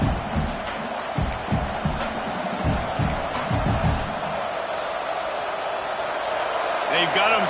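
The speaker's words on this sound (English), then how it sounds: "this crowd trying to help keep them there" Steady roar of a stadium crowd in the College Football 26 video game, a broad continuous wash of cheering and noise running under speech throughout, with a brief rise near the end.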